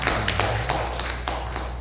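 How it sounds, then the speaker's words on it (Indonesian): A small audience at an Islamic lecture gives a short burst of clapping, uneven taps close by over a low steady hum. "Tepuk tangan untuk para supporting."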